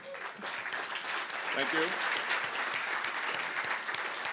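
Gala dinner audience applauding company sponsors, a dense, sustained clapping from a crowded room that holds steady throughout, with a voice briefly speaking over it near the start.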